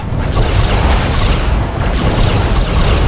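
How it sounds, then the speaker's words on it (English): Resonator cannon firing in the space combat game Star Trek Klingon Academy, heard as a loud, sustained booming rumble with repeated heavy blasts layered over a continuous low roar. "I-ho resonator cannon, away!"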